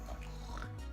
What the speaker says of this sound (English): I don't know if you guys can hear my dog snoring right now